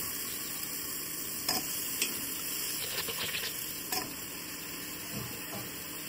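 Chopped potato, cauliflower and peas tipped into a hot pan for pav bhaji, giving a few scraping, clattering stirs over a soft low sizzle, fairly quiet and close, with no voices.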